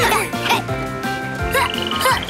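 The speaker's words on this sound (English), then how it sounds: "Poison dart frogs. Follow the frogs?" Poison dart frogs croaking in an animated children's rainforest adventure, a series of bright, bubbly, tonal croaks in quick bursts over a musical background.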